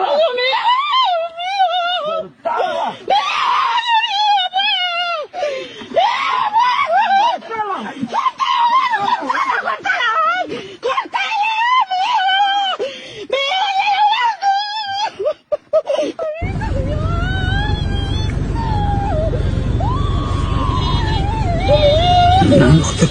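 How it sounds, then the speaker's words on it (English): Loud, high-pitched human screams and wails go on almost continuously, frantic and close, later joined by a rougher background noise beneath the cries. "The growl, the scream, the chaos."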